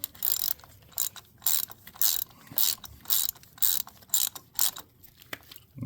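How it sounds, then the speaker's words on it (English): A hand ratchet clicks in about a dozen short, evenly spaced bursts while turning a spark plug on a Hyundai Santa Fe 2.0T AWD. It is close and fairly loud, with no talking. "Use a ratchet."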